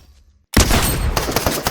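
A shotgun in Fortnite with the Kado Throne wrap fires after a brief quiet, a loud blast followed by a sustained burst of dense gunfire and clatter through the rest of the moment.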